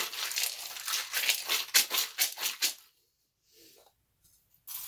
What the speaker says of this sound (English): I'm going to shuffle my charm box. It might be a little loud